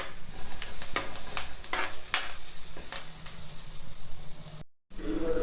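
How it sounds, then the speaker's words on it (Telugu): Sliced onions frying in a pan while being stirred with a utensil: steady sizzle with several sharp scrapes and clinks of the spoon against the pan, close and fairly loud, ending in a brief silence. "ఉల్లిపాయలు ఏగినాయండి, మరీ ఏగకూడదు."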